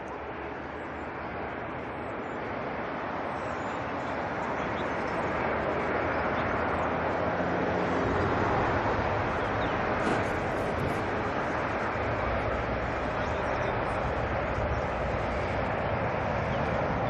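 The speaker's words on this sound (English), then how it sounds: "lining up on the runway, NZ 954, getting off to Fiji." At Auckland Airport at night, an Air New Zealand airliner lining up for departure to Fiji produces a broad, steady engine roar that grows a little louder and holds, heard from a distance and without any talk.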